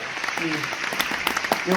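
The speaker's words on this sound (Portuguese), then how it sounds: "Aplausos." Audience applause in a Brazilian TV variety show studio as a duo is introduced, a steady broadband clatter of clapping lasting under two seconds, with faint voices mixed in.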